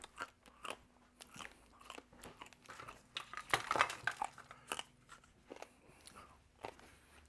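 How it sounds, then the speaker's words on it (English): Homemade corn nuts made from Hickory King corn being crunched and chewed close up, a string of sharp irregular crunches and bites that build to a louder burst midway, with no talking. "people don't want to hear me crunching like a mule eating corn"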